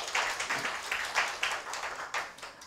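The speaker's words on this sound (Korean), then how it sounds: "다시 한번 큰 박수 부탁드리겠습니다." Audience applause at a Gwangju urban regeneration forum, a scattered patter of claps with irregular peaks, fairly faint and distant across the hall.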